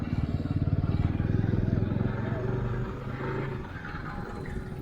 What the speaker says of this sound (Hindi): थोड़ा मैं बाइक को घुमा लेता हूँ फिर आपको दिखाता हूँ।